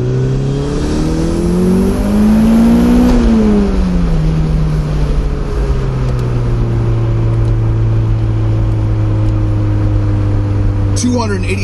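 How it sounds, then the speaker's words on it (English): A car fitted with a LoveHorsepower boost regulator accelerating hard at full boost in second gear, a loud, continuous engine roar climbing in pitch through the revs, then leveling off into a steady high drone, close and dominant throughout. "Drop it in second gear. Full boost,"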